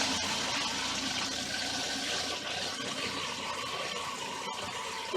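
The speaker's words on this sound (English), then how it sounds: "Which you only push the pedal about halfway down and fills the bowl with water." Water rushing into an RV toilet bowl as the foot pedal is held halfway down, a steady close hiss and gurgle of filling that runs without pause for about five seconds, no voices.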